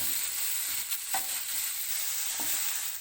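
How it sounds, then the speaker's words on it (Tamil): Steady sizzling of onions frying in a pan, a continuous soft hiss with a couple of faint stirring scrapes, no voices. "வெங்காயம் நல்லா வதங்கணும்."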